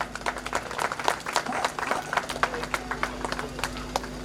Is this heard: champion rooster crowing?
no